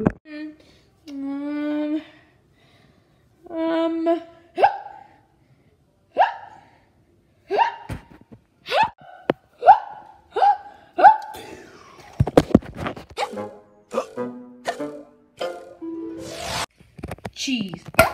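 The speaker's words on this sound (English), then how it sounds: "Koalie, Charlotte, and Fuzzy got the hiccups" Cartoon characters hiccup over and over in short, bouncy bursts, with light voiced yelps and breathy squeaks between them, loud and close across the whole stretch.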